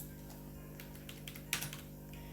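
Light typing on a computer keyboard, quiet scattered key taps with one sharper clack midway over a faint steady hum.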